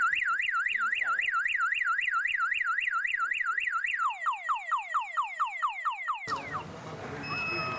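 A loud motorcycle alarm sounds up close, first with a rapid warbling wail and then with repeated downward-sweeping whoops, before it cuts off abruptly into background noise.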